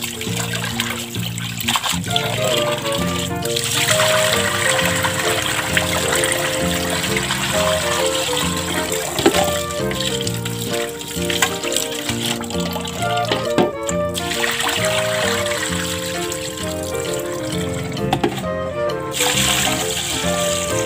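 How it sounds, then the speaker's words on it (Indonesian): Gallon-jug water poured into a pot of chicken for broth, a steady continuous splashing stream lasting throughout, close and fairly loud, with background music and no clear talk. "Saya kasih air galon ya teman-teman, biar kaldunya bagus, tidak menggunakan air keran."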